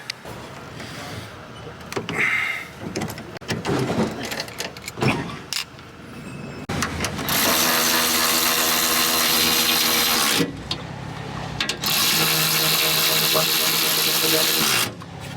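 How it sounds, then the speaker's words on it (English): A power drill whirs loudly in two long sustained bursts, preceded by a few clunks and a voice talking. "So now we need to drill out"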